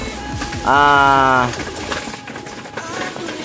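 Pigeons in a loft give a single short coo that stands out clearly for under a second, with quiet rustling and background noise before and after.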